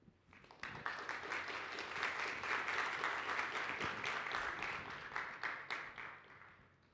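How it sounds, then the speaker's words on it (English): Audience applause after a conference presentation on blockchain adoption, a dense, steady roll of clapping that swells in and holds for several seconds at moderate distance. "Can we give another round of applause?"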